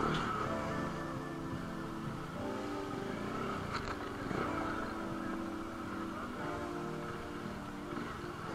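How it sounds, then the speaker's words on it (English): A motorcycle on a weekend group ride doing a burnout, a continuous loud engine roar with revving swells and tire noise, close, with some faint voices. "And a happy burnout."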